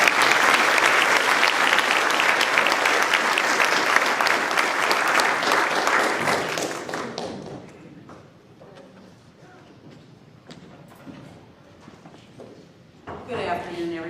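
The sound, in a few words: audience applause welcoming the host Barbara George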